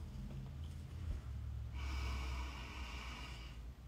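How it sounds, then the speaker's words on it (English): A person sniffs a rose up close, taking a long, loud nasal inhale through the nostrils that swells into a hissing draw of air before fading, with soft breathing around it and no talk. "Using the scent that's within my nostrils to sniff the essence of this rose"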